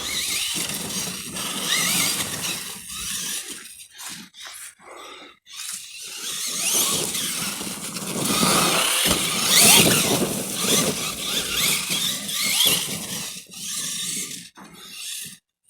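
A Losi LMT 4S RC monster truck driven hard, its electric motor whining and tires squealing and rasping in loud, continuous bursts with brief gaps, close to the recorder and with no talk.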